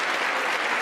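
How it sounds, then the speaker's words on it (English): An audience applauds in a dense, steady burst of clapping that is loud and close and lasts under a second, with no voices over it. "everybody's clapping"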